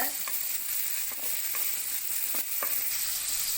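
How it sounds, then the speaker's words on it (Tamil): Chopped large onion stirred into hot oil with crackling mustard seeds and cumin for a Tamil snake gourd kootu, giving a steady close frying sizzle with a few faint clicks of stirring. "ஜீரகமும் பொரிஞ்சிருச்சு இது கூடவே ஒரு பெரிய வெங்காயம் சின்ன சின்னதாக கட் பண்ணி வச்சுருக்கேன் அதையும் சேர்த்துக்கிறேன் நல்லா கலந்து விடுங்க"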